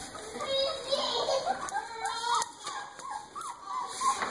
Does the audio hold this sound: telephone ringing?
no